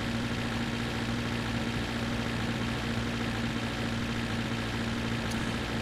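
A car engine runs in The Long Drive video game, overheating and low on fuel, a steady droning hum with a constant low tone, moderately loud and unchanging, alone without talk.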